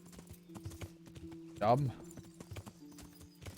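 A horse in the video game Kingdom Come: Deliverance clip-clops with steady, evenly spaced hoof taps over a low game drone, while someone briefly speaks near the middle.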